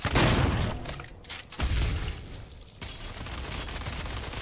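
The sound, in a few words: gunfire in the video game DOOM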